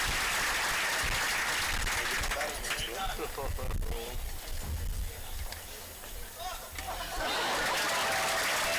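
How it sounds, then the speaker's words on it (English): Applause from a crowd at a baseball senior night and veterans park dedication, mixed with chatter and some laughter, fairly loud, rising again toward the end after a brief dip. "let's give them a tremendous round of applause and appreciation for their service to our country"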